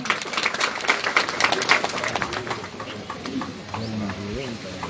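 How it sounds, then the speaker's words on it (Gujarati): A crowd claps for an arriving saint at a Gujarati religious gathering honouring a guru's death anniversary, with steady, dense applause through the first half that thins out as a voice begins speaking. "ખૂબ ખૂબ આપણે બધાય એને તાળીઓથી વધાવીએ."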